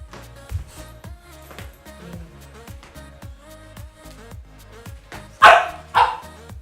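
A dog barks twice, loud and close, in quick succession near the end, cutting over a steady rhythmic background of softer sounds.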